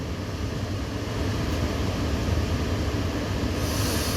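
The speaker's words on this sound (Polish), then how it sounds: "Odhamowuje piękna lokomotywa i ruszamy." A locomotive releases its brakes and a train begins to pull away at a station, with a steady low rumble of rolling rail cars that grows slightly and then a hissing burst near the end, with no talking.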